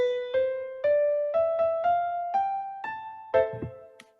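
MuseScore notation software plays back written notes in a soft piano-like tone, a stepwise rising line of about nine plucked notes ending on a lower-pitched final attack, fairly quiet with no speech.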